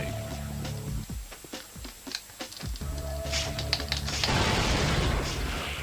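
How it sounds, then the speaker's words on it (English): Deep, booming gunshots fire in an irregular burst over a rumbling soundscape in the PS1 game Spider-Man, loud and heavy like cannon blasts, with a roaring swell near the end. "the gunshots in this game just sound like cannons"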